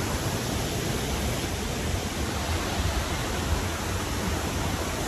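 Waterfall at Agua Azul in the Mexican jungle, a loud, steady, broadband roar of falling water with no letup, close by and alone.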